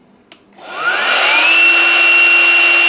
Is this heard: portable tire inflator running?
yes